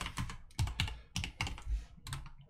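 Quick bursts of typing on a computer keyboard, clustered keystroke runs separated by short pauses, close and clear with no talking.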